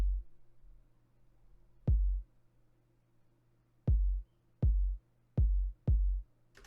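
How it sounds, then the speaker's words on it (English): A basic kick drum sample from a music production session, an orchestral game or trailer theme with electronic elements, hits five times in isolation: deep, punchy thumps with short decays, unevenly spaced against near silence. "It's a really basic kick,"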